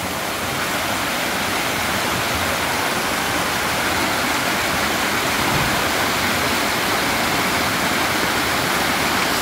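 The waterfall at Anduyan pours in a dense, steady roar of rushing water, loud and close, with no break and no voices over it.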